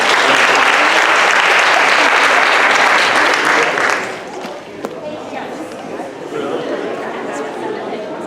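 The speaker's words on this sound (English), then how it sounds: "Let's give her Alex a round of applause." An audience at a school athletic parenting night claps loudly and steadily for several seconds, then the applause fades into crowd chatter and talk.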